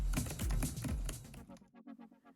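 Typing on the keyboard of a 2022 Acer Nitro 5 AN515-58 gaming laptop gives a close, quick run of soft key clicks, denser at first and then sparser and fainter, with no talking.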